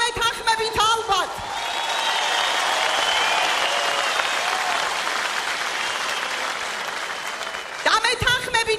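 A crowd at a political rally in Batumi breaks into sustained, dense applause lasting several seconds, with a speaker's voice heard briefly before and after it.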